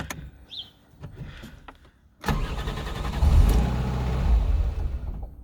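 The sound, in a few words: Ford Fiesta MK4 1.3 engine starting with unstable idle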